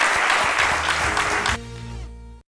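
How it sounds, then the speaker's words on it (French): A studio audience claps loudly on a French-language TV midday show, dense applause that cuts off abruptly, leaving a brief musical tone before silence. "on vous applaudit très fort"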